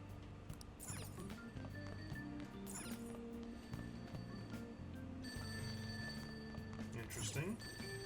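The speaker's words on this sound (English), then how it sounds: "Oh, it's a payphone ringing." A payphone in the Persona 5 video game rings in repeated bursts of bell-like trills, mixed under game music, with a voice talking over it.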